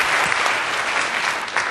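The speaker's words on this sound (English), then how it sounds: "A round of applause for Claire." An audience at a court administrators' conference applauds steadily for a presenter, a dense, even wash of clapping held at a constant level from start to end with no voices over it.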